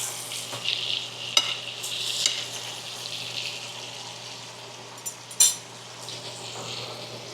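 A steak frying in a pan hisses with a steady, moderate sizzle. A few sharp metallic clinks of a utensil sound against the pan, and there is no talking.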